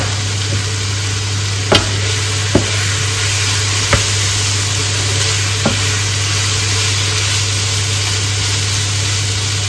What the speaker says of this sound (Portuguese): Deixa eu refogar aí mais um pouquinho